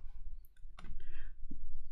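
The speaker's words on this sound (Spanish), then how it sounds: "vas a dar clic aquí en crear" A few sharp computer mouse clicks while a Facebook Ads campaign is set up in Ads Manager, isolated taps spaced apart over a low steady background hum.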